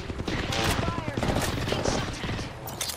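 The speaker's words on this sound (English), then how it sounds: "Shot fired at me." Rapid gunfire in the video game Apex Legends, a dense fusillade of close, loud shots rattling continuously while game voice lines talk over it.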